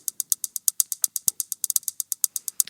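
Cassette mechanism rattling, looped as a techno hi-hat, ticks in a fast steady run of bright crisp clicks, close and prominent, with a faint low knock partway through and no voices.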